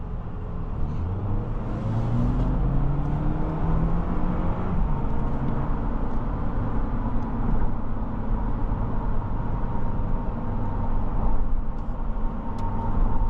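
A 2024 Toyota Land Cruiser hybrid SUV driving in normal mode, giving a steady low engine and road drone with a slowly rising tone, heard from inside the cabin.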